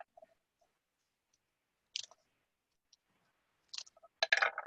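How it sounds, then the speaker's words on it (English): A few crisp, quick snips from scissors clipping a cigar close by, separated by quiet pauses, with a short cluster of sharp cutting clicks near the end. "And clip it off, and I just make myself a little cigar there."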